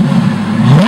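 A Lamborghini Gallardo engine revving loud and close, a strong rising mechanical tone climbing in pitch over a short burst.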